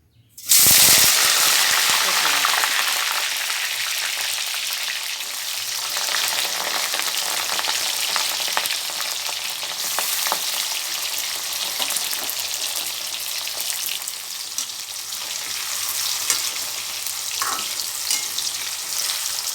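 Raw plantain pieces fry in hot oil in a pan, a loud, steady crackling sizzle that bursts up as they go in and then holds close and continuous throughout.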